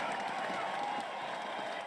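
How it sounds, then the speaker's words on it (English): Applause and cheering from an audience, a steady broadband wash of clapping and crowd noise sustained throughout, moderately loud and close. "we will at least give them a round of applause"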